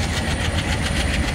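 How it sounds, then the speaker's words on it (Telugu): A train in a Train Simulator game on an Indian Central Railway route rumbles loudly with a steady low engine drone and a regular clickety-clack of wheels over rail joints, with no voices. "అసలు ఎదురుగా మనకి ఇంకో ట్రైన్ అయితే వస్తుంది చూడండి గైస్"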